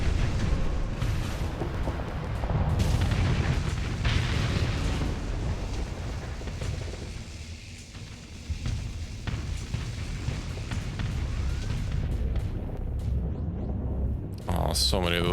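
Missiles exploding in a space fleet battle video game, a dense stretch of booming blasts and rolling rumble that swells and thins over time, with a person talking over the din.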